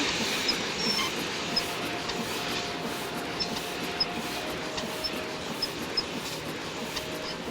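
A train squeaks on the rails in the video game Nancy Drew: Last Train to Blue Moon Canyon, a steady rolling rumble with a faint drawn-out squeal and regular light clicks from the wheels, heard alone.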